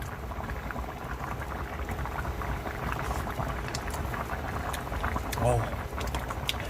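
A spicy fish stew of freshly caught fish and hot red chili flakes bubbles in a pot, a steady close simmering burble that fills the whole clip, with a brief louder gurgle near the end.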